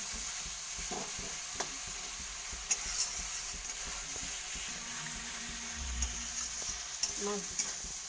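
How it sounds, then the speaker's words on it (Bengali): Spice paste sizzles and fries in oil for mutton curry while a spoon stirs it, a soft steady hiss with scattered scraping stirs and light knocks, alone with no talk. "মশলাটা আমি ভালোভাবে কষতে পারবো যতক্ষণ ওদের তিন ছাড়ছে ভালোভাবে"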